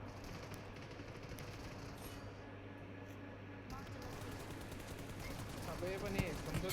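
Dense video game gunfire, including shotguns, crackles steadily at middle distance, with a continuous low hum and a brief voice near the end.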